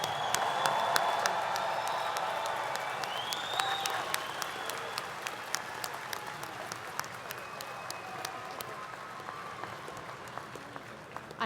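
A graduate school commencement crowd at Virginia Tech claps steadily for the new graduates, a broad, even wash of applause that thins slightly over about eleven seconds, with a few faint tones and murmurs beneath.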